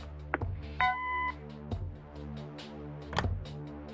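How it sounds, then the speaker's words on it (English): Answering machine beep in the video game Kathy Rain: a short electronic tone sounds once over a low, droning music bed, with a few soft clicks and thumps around it. "Leave a message after the beep."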